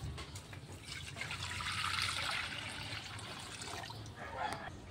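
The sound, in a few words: second-press coconut milk poured into a pan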